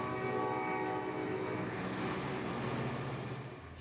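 A commuter train rolls past steadily, its horn sounding in sustained tones over the rumble of the cars, holding loud and then fading slightly at the end.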